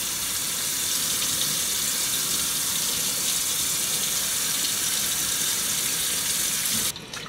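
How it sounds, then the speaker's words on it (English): Tap water gushing steadily into a sink while raw fish is rinsed with lime for a Jamaican brown stew, a loud continuous hiss that cuts off abruptly near the end. "So right now I'm gonna wash the fish."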